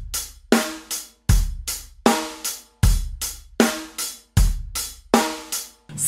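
A programmed drum pattern plays on an Addictive Drums kit, with punchy booming kicks and cracking snares landing in a steady rock groove, loud and alone with short gaps between hits.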